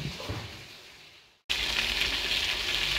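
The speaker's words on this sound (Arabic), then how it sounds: "هنا تحمر الدجاج" Chicken pieces frying in hot oil, a steady bright sizzle that dips briefly and then returns louder and denser, close up with no talking.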